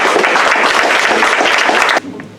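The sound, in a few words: applause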